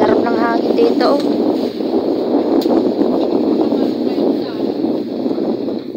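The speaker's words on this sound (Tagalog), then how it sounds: "Sarap ng hangin dito oh." Wind blows steadily across an open farm field near mountains, a constant rushing buffet on the microphone that lasts throughout, with people talking briefly over it.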